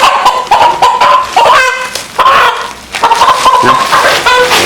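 Home-raised chickens cluck close by in a busy, overlapping run of short calls that continues throughout, with no talking.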